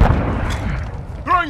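A Semtex grenade blast in Call of Duty multiplayer hits as a loud, low rumbling boom that fades quickly, with a short voice callout right at the end.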